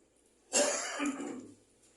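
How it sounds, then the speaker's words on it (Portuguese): A person with a sore throat gives a single rough throat clearing that slides into a short cough, close and fairly loud, after a quiet start and fading into silence. "eu estou tossindo, não estou bem da garganta"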